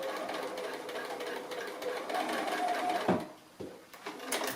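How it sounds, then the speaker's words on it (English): A sewing machine stitching across a thick pile of cotton mop and batting for a Santa project, a steady fast whirring hum that briefly pauses and restarts near the end, close and fairly quiet. "So I'm just sewing across all this mountain of cotton mop here"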